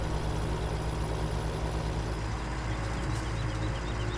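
A tractor engine idles in Farming Simulator 17 on a North Frisian farm, a steady low rumbling hum that stays even and continuous throughout with no voices.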